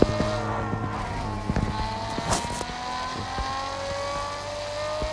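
A BMW E60 engine revs inside a car parking video game, a steady motor drone with pitch shifts and a few sharp clicks and thumps, at moderate volume with no talking.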